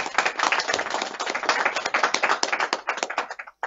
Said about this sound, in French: Acclamez Kakabé très fort.